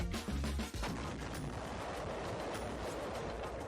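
A TNT blast demolishes Fort Drum, the concrete 'battleship' fort, opening with a heavy deep boom followed by a long crackling, rumbling roar of debris, distant and unbroken by speech.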